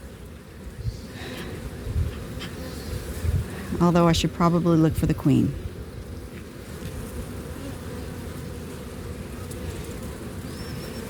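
Honey bees hum steadily around an opened hive during a first spring inspection in Kentucky, a continuous low drone throughout with someone speaking over it in the middle.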